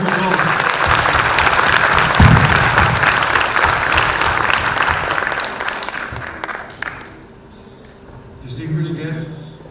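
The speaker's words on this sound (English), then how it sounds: "Let's give them applause." Loud, sustained applause from an audience at a Grade 12 graduation ceremony, honoring the singers after their performance, holding steady for several seconds before tapering off, then a brief swell of clapping returns near the end.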